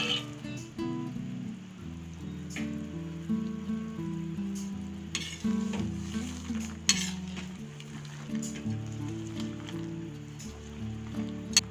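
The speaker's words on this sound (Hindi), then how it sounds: "इन्हें बीच बीच में ऐसे ही चलाते रहेंगे जब तक चाशनी अच्छे से शक्करपारे के ऊपर चढ़ नहीं जाती" Crispy shakarpare are stirred through sugar syrup in a pan, giving soft scraping and clattering with occasional sharper knocks, set against a steady, tonal background hum.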